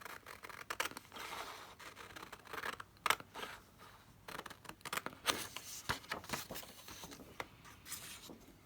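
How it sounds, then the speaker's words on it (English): Scissors snip through a sheet of printed paper, trimming off its bottom edge in a string of close, crisp cuts and papery rustles with short pauses between strokes. "let's cut this bottom edge off first."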